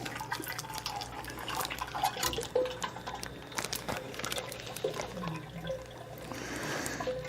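Ten quarts of ice cream mix pour into an ice cream machine, a soft liquid splashing and trickling that rises and fades irregularly, faint against a low steady hum.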